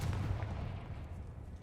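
Confringo explosion spell in the Hogwarts Legacy video game, a deep booming blast with a low rumbling tail that fades over a second or so, no talking.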